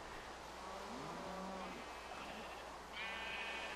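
Minecraft sheep and cows bleating and mooing in a game world, several overlapping calls in short bursts with a higher bleat near the end over a steady background hum.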